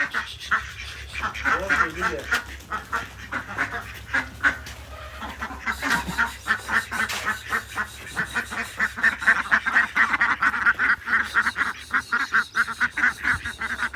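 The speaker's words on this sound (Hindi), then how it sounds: "और बतखें जो हमारी अंदर ही घूम रही हैं, इनको बाहर भेजते हैं पहले।" A flock of ducks quacks continuously and loudly, a dense overlapping chorus with a few honks mixed in.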